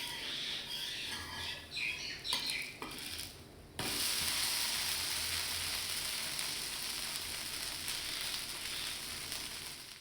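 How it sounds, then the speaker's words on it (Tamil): Steady sizzling from a hot iron griddle with a few scraping, rubbing noises early on as a sorghum dosa is flipped, then a continuous loud hiss of frying batter. "நம்ம இரும்பு கல்லில் யூஸ் பண்ணுறோம். இப்போ தோசையை திருப்பி போடலாம்."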